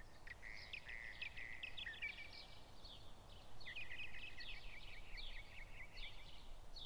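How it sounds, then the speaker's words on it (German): A baby bird in a German children's cartoon chirps in quick, high repeated bursts, several short phrases spread across the stretch, fairly faint over a soft background hiss. "Schau mal, ein Babyvogel."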